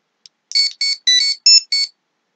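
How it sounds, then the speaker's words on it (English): Power Rangers Legacy Communicator toy plays its standard communicator chirp: a short click, then five quick high electronic beeping bursts in a steady rhythm, close and clear with no talking. "Got the standard communicator noise and the lights."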